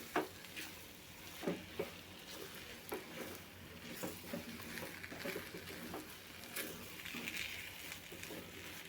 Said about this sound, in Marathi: जरा मिक्स करून घेऊ आपण